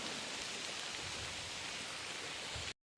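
Rain falls outdoors as a faint, steady, soft hiss of drops with no voices, cutting off abruptly near the end.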